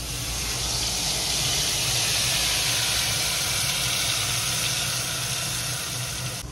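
Spice paste hitting hot oil tempered with dried red chilli and nigella seeds while cooking mustard hilsa, giving a loud, steady broadband sizzle that hisses continuously throughout without any talk.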